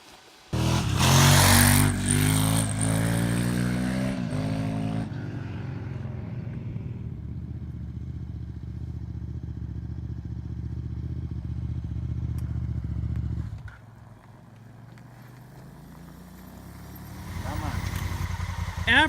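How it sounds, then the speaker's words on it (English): A Honda Africa Twin motorcycle engine starts with a loud revving burst, then settles into a steady idle that drops lower partway through and rises again near the end, out in a Death Valley dry lake bed. "Africa Twin is up and running."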